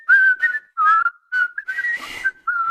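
Several people on a Zoom call whistle a tune together, a wavering melody in short phrases with brief breaks and some breathy noise, close and fairly loud.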